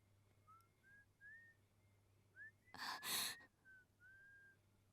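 Someone whistles a short, thin tune in separate phrases, faint and somewhat distant, in a quiet room with a low hum underneath. A loud breathy gasp or rustle cuts in briefly partway through.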